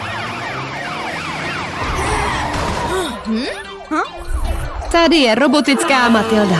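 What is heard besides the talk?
cartoon siren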